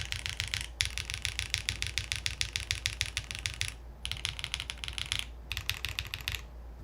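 Rapid clattering keystrokes on a computer keyboard come in three dense bursts with brief pauses between, close and fairly loud, with no talking.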